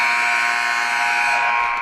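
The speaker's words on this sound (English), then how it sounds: "Final buzzer sounds." Final buzzer at a women's college basketball game in an arena, a loud steady electronic blare held for about two seconds, close and continuous.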